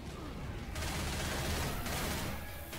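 Rapid gunfire in the zombie shooter Left 4 Dead 2, a dense continuous fusillade of overlapping shots that stays loud and steady throughout.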